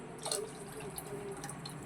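Water splashes and trickles into a pot nearby, a short steady pour with light dripping, no talking.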